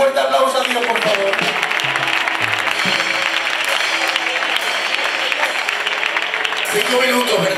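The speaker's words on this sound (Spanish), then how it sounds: "Dale un fuerte aplauso a Dios, por favor." Congregation at a church baptism service clapping loudly and continuously, a dense sustained applause with crowd voices mixed in and faint tonal sounds below.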